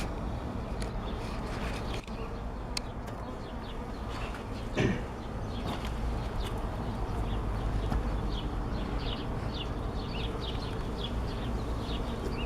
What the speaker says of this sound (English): we will probably see some bees flying around a little excitedly